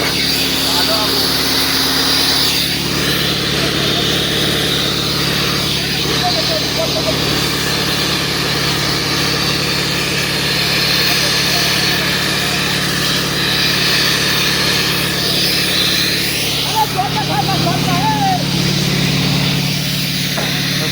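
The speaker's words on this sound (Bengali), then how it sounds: "দেখো এই জেনারেটর আমাদের চলছে" A generator runs at a steady, loud drone with a constant hum throughout, near a fire, while people's voices and crowd noise carry on over it.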